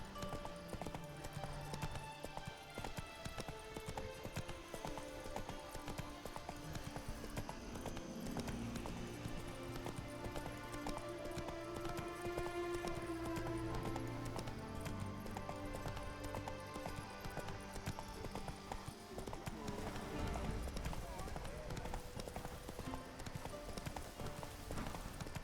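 Rhythmic hoofbeats of the horse Roach galloping in the video game The Witcher 3: Blood and Wine, a continuous clip-clop under game music at moderate loudness.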